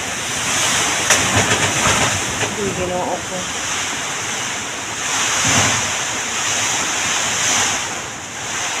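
Strong wind roars steadily across the microphone, gusting louder at times, while a person speaks briefly underneath.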